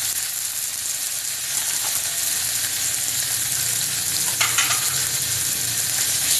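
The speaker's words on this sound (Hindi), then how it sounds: "फिर इसको हम अच्छे से मैश करते हुए चलाएंगे।" Baingan bharta, seasoned with red chilli powder and salt, fries with a steady close sizzle in a pan while it is stirred and mashed, with occasional scraping clicks of the spoon and no speech.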